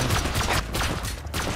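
Gunfire during a raid in the video game Rust, with a rapid fusillade of loud, close shots in uneven bursts across a brief stretch.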